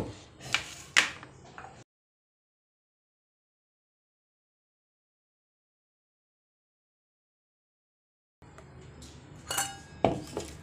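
Homemade lassi is served into glasses with light clinks and clatters of glassware and dishes. A short burst of clinking comes first, then a long silence, then more clinking and handling sounds.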